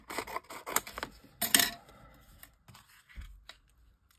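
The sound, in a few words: cutting with scissors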